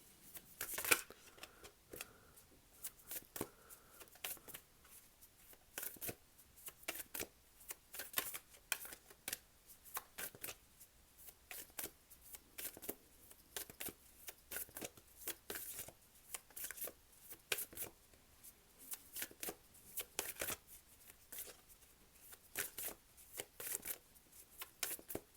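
Tarot cards are shuffled continuously, giving a long stream of soft, rapid flicks and taps with short pauses between bursts. The cards sound close but fairly quiet, with no talking.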